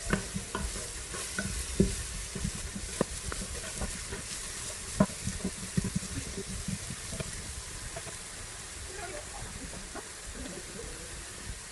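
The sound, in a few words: frying turmeric for mohinga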